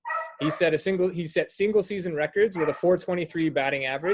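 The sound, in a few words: dog barking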